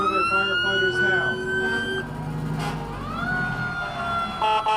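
Siren from a Hegan Fire Department engine rolling along a St. Patrick's Day parade route in the Village of Buchanan, a steady wailing tone with a rising sweep midway, loud and close, with a voice talking over it.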